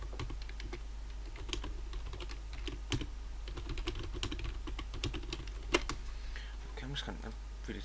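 Rapid typing on a computer keyboard, dense irregular clicks and key taps throughout over a constant low hum, with occasional louder strikes.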